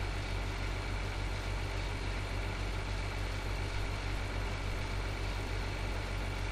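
Tractor engine in the video game Farming Simulator 2013, a steady, continuous low mechanical drone holding an even pitch throughout, with no talking.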